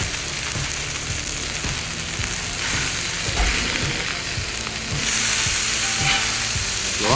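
Mahi mahi fillet frying in a pan with garlic paste, a loud steady sizzle running throughout with occasional scraping turns of a spatula, growing slightly louder near the end.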